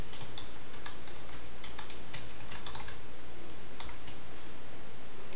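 A computer keyboard clacks in rapid, uneven taps while Java code is entered, the keystrokes close and fairly loud over a steady background hiss.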